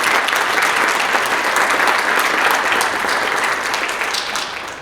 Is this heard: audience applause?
yes